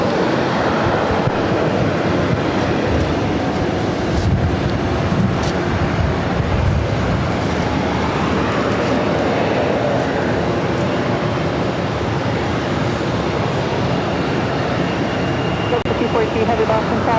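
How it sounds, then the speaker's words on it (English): A JetBlue Airways jet arriving from Tampa, Florida, on approach to land, producing a continuous loud jet roar and rumble with faint radio-like chatter mixed in beneath it. "This is JetBlue Airways 892 coming in from Tampa, Florida."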